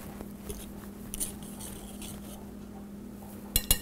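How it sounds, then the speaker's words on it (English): Whisking dry cake ingredients with salt in a bowl: light metallic clinks and scrapes of a whisk against the bowl, scattered and faint, ending with two sharper taps, no talking. "And then you're gonna just whisk it around, make sure everything is incorporated."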